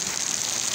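Steady rain falling outdoors in Muğla, Turkey, during a cold, wet spell, a continuous dense hiss of drops with no breaks, fairly loud and even, no voices.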